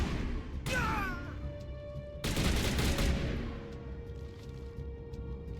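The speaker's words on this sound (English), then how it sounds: "Y'all shooting at the wall?" Gunfire strikes a wall in Mass Effect, two loud bursts of shots separated by a pause, with a brief voice and lingering game tones beneath.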